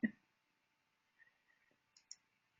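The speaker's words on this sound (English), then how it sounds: "I've just been clicking away tonight." Computer mouse clicks come in a few sparse, quiet bursts, with a small cluster of light taps after a short pause, close by in a quiet room.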